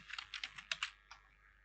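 Quick typing on a computer keyboard at close range, a burst of about eight crisp keystrokes in rapid succession followed by one last tap, with no talking.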